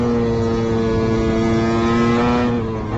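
A Formula 1 car at Le Mans accelerates at full throttle right after the pit limiter is released, its engine a loud, close, buzzing harmonic drone that holds steady before easing slightly at the end.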